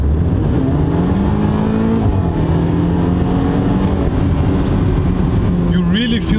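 BMW 328i F30 fitted with an M Performance exhaust, accelerating hard in sport mode: a loud, steady engine drone with rising pitch sweeps as revs climb and gears shift, heard from inside the car while a voice talks over it.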